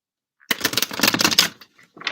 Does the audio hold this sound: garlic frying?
no